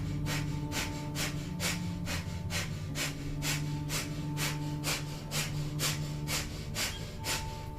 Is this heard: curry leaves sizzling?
no